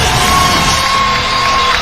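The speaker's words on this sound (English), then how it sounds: "They're just applauding a 10-point lead." Crowd noise from an NBA 2K25 basketball game, a steady loud roar of cheering and applause filling the arena throughout, with a sustained tone running beneath it.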